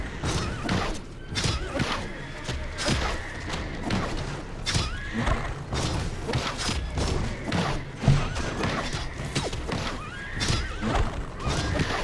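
A mythological horse creature in the video game RIFT whinnying and neighing repeatedly, mixed with heavy thumping hoof strikes and clip-clop steps in a busy, irregular sequence at close range.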